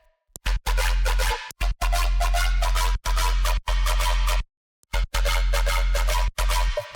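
An Ableton-produced electronic drop pumps in dense, heavily sidechained bursts with a booming low end, broken by sharp gaps, its frequency-shifter modulation adding a short pitched-up lift near the end.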